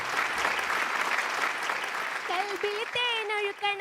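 A studio audience at a Malayalam TV game show claps in a dense, sustained burst of applause that thins out as a voice starts singing over it.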